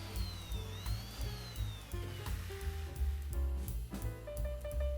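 A power sander spinning with no sanding disc fitted, at a wood lathe in a workshop: a steady, fairly loud motor whine with a drifting high tone and irregular knocks, heard alone without talk.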